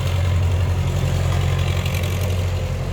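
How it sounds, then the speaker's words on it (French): A tractor passing nearby gives a steady, deep engine drone that holds an even loudness throughout, with no talking over it. "Le tracteur qui passe."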